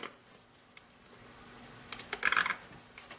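A zip tie is pulled tight on the frame of a motorcycle, a K1600 Bagger or Grand America, while a side panel is fitted. A burst of close, quick ratcheting clicks follows a few light handling taps.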